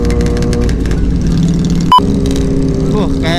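A Harley motorcycle engine rumbles and revs nearby, loud and uneven, with a sharp brief click partway through and a voice talking over it.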